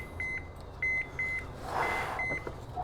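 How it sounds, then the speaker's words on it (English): A kitchen timer or thermometer alarm signals that a spatchcocked smoked turkey is done, giving a series of short, clear electronic beeps in uneven bursts over a low background hum, with a brief rustle midway. "there's that alarm. We know it's ready."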